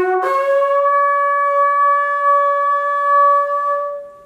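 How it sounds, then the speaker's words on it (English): A traditional shofar is blown in one long sustained blast that starts with loose lips and tightens, giving a bright, steady, horn-like tone. It is loud, close and alone for about four seconds before fading out. "So you've heard the traditional shofar blowing."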